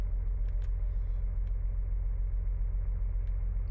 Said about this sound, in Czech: Jo, ale to auto zní nějak zvláštně.